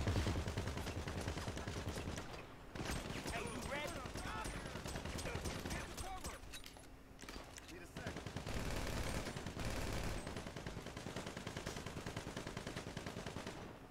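Gunfire rings out in a GTA street scene as Franklin and Lamar head toward a mission, dense rapid bursts and volleys running almost continuously at a steady loud level, with voices talking over the shooting.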